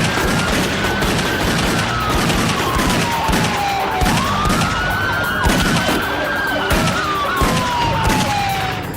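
Gunfire in a police shootout in Houston County, Georgia: repeated sharp bangs in rapid succession under a loud, continuous wailing police siren, all harsh and close.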